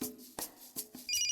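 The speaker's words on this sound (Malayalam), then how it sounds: "ഫോൺ അടിച്ചോണ്ടിരിക്കുക, ഞാൻ എടുക്കാം." A few faint knocks and taps lead into a short electronic ringtone from a telephone, with quiet high tones at the end.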